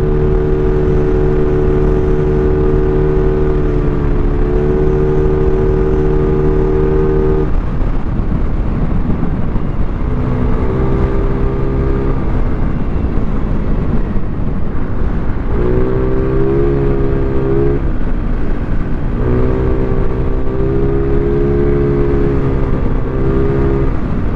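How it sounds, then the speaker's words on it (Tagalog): A Yamaha Mio Sporty scooter engine idles with a steady low drone, rising and dropping in pitch as it is revved several times, close and loud with no talking. "Pakinggan yung makina natin."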